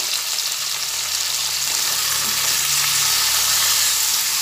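Bitter gourd frying with turmeric in a pan, a close, steady sizzle and crackle that runs throughout with faint stirring, no voices.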